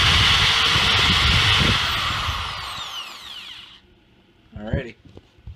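A power drill whirs loudly for a couple of seconds, then winds down and stops, followed by a brief clatter and a short spoken phrase.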